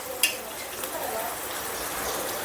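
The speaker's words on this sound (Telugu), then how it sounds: "ఫిష్ ఇలా వేసుకోవాలి. ఇలా వేసుకుని ఒక 5 మినిట్స్ మగ్గనిస్తే" Fish pieces frying in a pan for fish curry: a soft, steady hiss of sizzling oil with a brief clink near the start, with a voice speaking over it.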